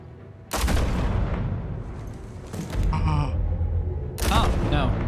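A gunshot in a Batman movie: a loud, close blast followed by a sustained rumbling tail, then a second burst, with voices and gasps mixed in.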